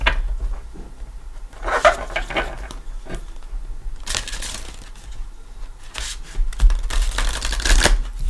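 Tarot cards riffled and shuffled close by in repeated bursts of crisp flapping and clicking, with brief pauses between shuffles and no talking.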